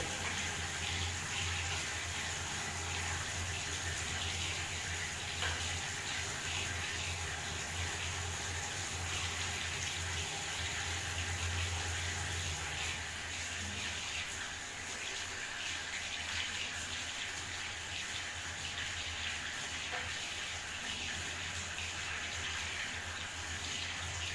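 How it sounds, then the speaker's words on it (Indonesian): Water runs steadily from a tap for a long stretch, a constant hissing gush with faint rubbing and splashing of soapy hands beneath it. "kita cuci tangan setelah tindakan menggunakan sabun dan juga air mengalir"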